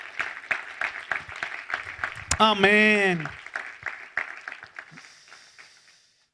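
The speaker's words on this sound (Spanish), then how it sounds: "Denle otro aplauso al Señor" A church congregation applauds during a sermon, scattered clapping under a voice that calls out and sings a drawn-out note before the claps thin and fade away.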